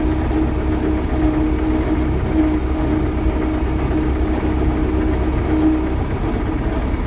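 A YuMZ 4x4 tractor engine drones steadily while driving, a constant loud low rumble with rattling undertones and no pauses or voices.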